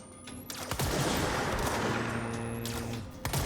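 Dense enemy gunfire in the video game Control, a sustained roar of overlapping shots and bursts lasting several seconds, loud and continuous with sharp cracks at the start and end.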